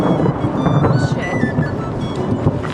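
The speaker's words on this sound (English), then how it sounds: "We just got the loudest thunder." Loud thunder rolls through a nighttime rainstorm at a mountain backpacking campsite, a dense rumbling roar blended with steady rain hiss that continues throughout without a distinct single crack.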